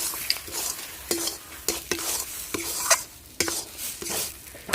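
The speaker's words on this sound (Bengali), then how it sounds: "আমি একটু ভালো করে খুন্তি দিয়ে ভালো করে আমি ঘেটে নিচ্ছি যাতে কচু শাকের মধ্যে সব একসঙ্গে মিশে যায়" A metal spatula stirs taro leaves cooked with hilsa fish head in a pan, irregular scraping strokes and clacks over a soft sizzle, close and alone.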